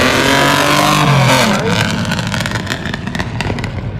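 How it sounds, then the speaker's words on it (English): A vintage speedway race car engine roars loudly close by, revving high then dropping into a rough, crackling, popping idle. "Got that classic speedway sound to it."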